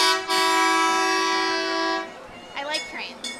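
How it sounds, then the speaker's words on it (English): A long, loud steady horn blast sounds for about two seconds at a Fourth of July parade, followed by crowd voices and chatter. "I like trains, and I don't like the sound of trains."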